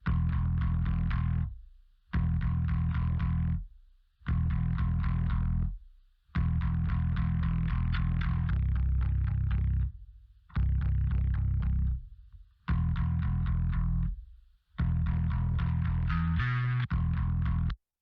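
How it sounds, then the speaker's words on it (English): Bass guitar with EQ for a clean, punchy low end, playing heavy repeated riffs in chunks of about two seconds separated by short silences, loud and up close, with no talking over it. "if I put this EQ back in, it should clean up extremely well, but still have a lot of that low end and power that we want out of our bass guitar"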